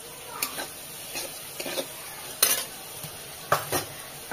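Vegetables fry in mustard oil with turmeric and chili while a utensil stirs and scrapes the pan in intermittent clinks, with a soft sizzle underneath and someone talking quietly.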